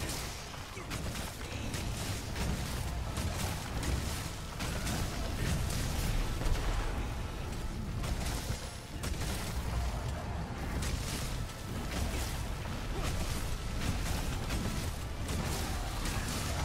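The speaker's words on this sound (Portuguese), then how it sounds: "Bomba boa aqui." Explosions and heavy impacts in Monster Hunter World Iceborne during a Switch Axe fight against Teostra, a dense, loud barrage of booms and crashes that keeps pounding with scattered sharp hits.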